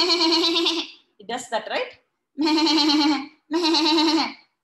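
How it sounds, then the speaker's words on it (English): A goat bleats three times, each a loud, drawn-out, wavering cry close by, with a short spoken line from a person between the first and second bleats. "The sound that a goat or a sheep makes is called bleat."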